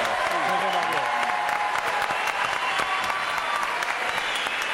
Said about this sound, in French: J'aimerais bien quand même quelques applaudissements, 2 secondes